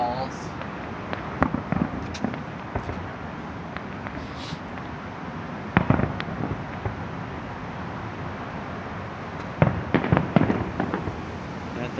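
Fourth of July fireworks burst over Lake Union in Seattle, with a few distant booms and crackles at scattered moments above steady wind noise and talking.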